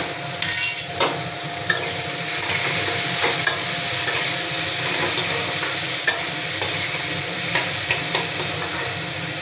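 Oil sizzles steadily in a pan as turmeric and chopped green chili are added and stirred, with a constant bright hiss and scattered scraping clicks of a spatula against the pan throughout.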